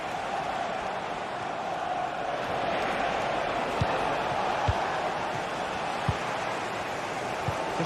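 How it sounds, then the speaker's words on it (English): Steady roar of a football video game stadium crowd, a dense, continuous wash of cheering with occasional faint thumps, holding at an even level throughout. "The crowd certainly think so. Just listen to them."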